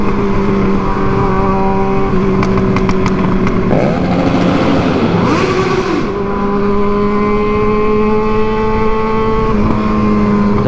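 A Yamaha MT-07 motorcycle engine roars steadily and loudly throughout, with pitch swells as it revs and accelerates; close and continuous, no voices.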